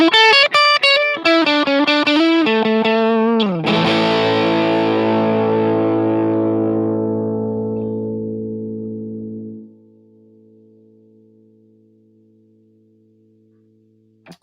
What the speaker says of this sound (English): that's a plexiglass 50 watt, and that sounds pretty good